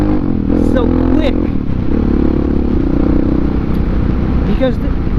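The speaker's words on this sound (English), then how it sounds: "when you gas it up, it does feel like it's, god damn, this thing is so quick" A Honda XR650R motorcycle accelerates hard, its engine a continuous loud close rumble with rising whine, while someone talks over it.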